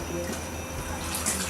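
Batik cloth dyed with Remasol being rinsed in clean water, a brief continuous splashing and sloshing of water, close and fairly loud.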